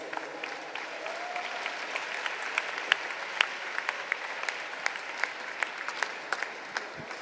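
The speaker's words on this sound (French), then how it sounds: "on peut applaudir le Seigneur" Church congregation applauding at a French Christian gathering, soft, steady clapping from a fairly distant crowd with a few sharper individual claps standing out.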